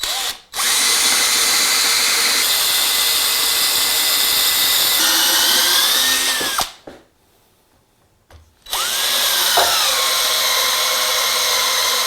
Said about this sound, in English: my drill ran out of battery